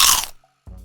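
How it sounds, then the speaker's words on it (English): Crispy taco tortillas crunched as a sound effect: a single loud, close crunching burst, a short silent gap, then a second softer chewing crunch. "Maybe it's the crunch of the crispy tortillas."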